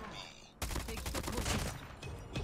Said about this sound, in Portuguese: vocês curtiram esse sonzinho da arma?